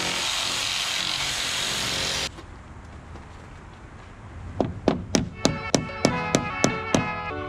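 A power shear snips through a fiber cement cedar shake siding shingle with a long steady grinding rasp, then falls quieter before a quick run of about nine sharp, evenly spaced clacks as the blade bites along the trim line.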